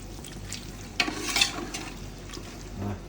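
Mutton biryani masala is stirred in a pot for an Ambur-style dum biryani, giving faint scattered scraping strokes over a low simmering sizzle, close by and without talk.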